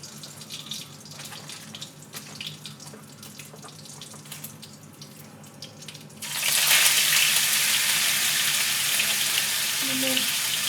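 Raw pork hits a hot pan for yaki udon and breaks into a loud, close, hissing sizzle that keeps going to the end. Quieter kitchen clatter comes before it.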